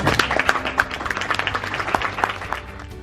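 Audience applause at a business legal update seminar, a short burst of scattered clapping from a modest crowd, uneven and fairly close.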